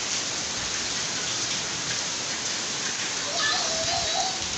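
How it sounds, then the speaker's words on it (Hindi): Rain falls in a steady, broad hiss, close and constant, with a voice speaking briefly near the end. "ये देखो बारिश"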